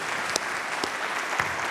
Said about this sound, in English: give the pep band and the jazz band that played before I got here another round of applause